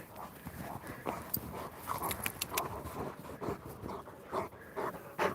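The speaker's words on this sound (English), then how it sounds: "the biggest dog and the smallest dog, they just love playing with each other" A big Kangal and a small dog play together, with quick scuffling paws, thumps and scattered bursts of movement at close range, irregular and lively, with no voices.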